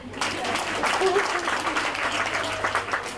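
Audience applause, a sustained burst of many hands clapping together, steady and fairly loud throughout.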